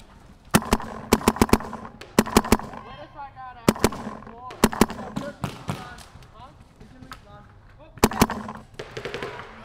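Dye MXR paintball markers firing in quick rapid volleys outdoors at a paintball field, sharp popping strings in several bursts, with players shouting in between.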